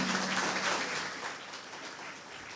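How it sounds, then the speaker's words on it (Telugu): A crowd applauds at a church silver jubilee celebration of an Infant Jesus shrine, producing dense, continuous clapping that fades slightly toward the end. "హర్షధ్వానాలతో గట్టిగా చప్పట్లు కొడదాం."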